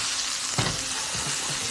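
Chicken strips and garlic sizzle as they are stir-fried in a hot pan, a steady close crackle broken by a scraping push of the food around the pan.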